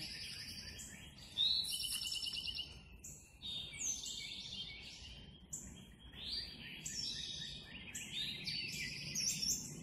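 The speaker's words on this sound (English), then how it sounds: "The beautiful birds woke me up this morning." Birds sing in a backyard in the morning, with bright chirps, trills and tweets scattered across the stretch from several birds at moderate distance. A faint steady insect-like buzz sits underneath, and no one talks.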